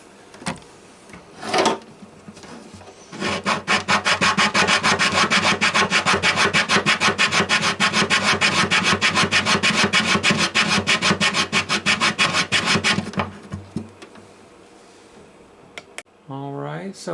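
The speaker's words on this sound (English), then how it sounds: "Go in with a little bit of sandpaper." Sandpaper worked over the wood of a Martin Shenandoah guitar makes a loud, close, steady back-and-forth rasp of rapid even strokes lasting about ten seconds, with a few brief handling sounds before and after.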